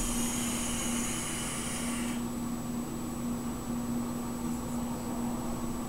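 A Holy Grail RDA vape atomizer fires at 70 watts with a steady, close hiss and crackle. A bright upper layer of the hiss drops away about a third of the way through, and the rest continues evenly under a faint low hum.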